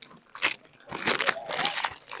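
Doritos chips crunched between teeth in bursts alongside the crinkle of a snack bag during a pre-game team meal, close and moderately loud.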